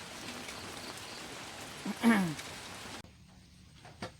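Light morning rain falls softly during a trip to check fish traps, a faint, even patter with a brief chirp-like sound midway before the level suddenly drops.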